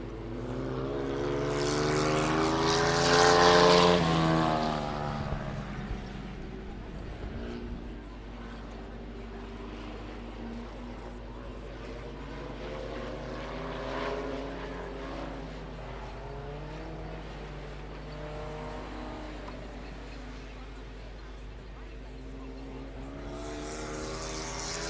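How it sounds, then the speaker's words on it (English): Vintage race car engine roaring along the back straight of a dirt track, a loud sustained drone that swells and fades as the car passes, with a continuous engine hum underneath. "Trevor Smith just goes down that Cochrane's back straight in the 66"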